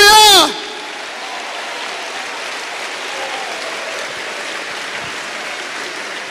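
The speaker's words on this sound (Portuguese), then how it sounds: "Let's give God a round of applause." A church congregation in Rio bursts into applause after a brief sung or shouted phrase, a loud opening that settles into a broad, even roar of clapping from a large crowd.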